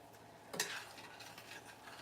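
Honey walnut shrimp sauce boils in a pan, giving a faint, steady bubbling sizzle with one brief scraping stir partway through.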